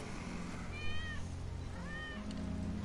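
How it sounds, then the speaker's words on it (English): A cat meows twice within the Final Fantasy VII Remake video game, two clear rising-and-falling cries about a second apart over a low ambient game backdrop. "That's Wedge's cat."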